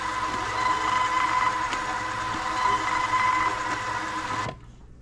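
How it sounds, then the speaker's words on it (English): A small label printer running in a steady buzzing whir with a faint tone, continuous for about four and a half seconds before stopping abruptly, close and alone. "That's how quick it printed them out though."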